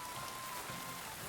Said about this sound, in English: Shouldn't be under a tree when it's raining